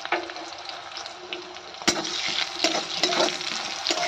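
Eggplant slices sprinkled with salt fry in hot oil, giving a steady close sizzle with occasional sharp clatters and stirring noises.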